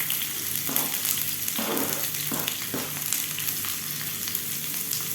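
Long strips of carrot and capsicum sizzle steadily in hot oil for an egg noodle cutlet snack, with a couple of louder bursts as the pieces are stirred, close and continuous with no talking.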